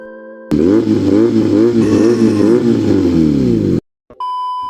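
An inline two-cylinder motorcycle engine revs up and down in a few loud, throaty surges, then cuts off abruptly and an electronic tone follows.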